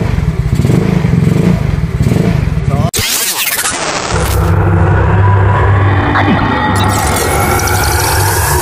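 A Yamaha Pino motorcycle with lights burning out and a draining battery runs loud and close, with a sharp clunk, then a rising rev that settles into a steady, throbbing idle.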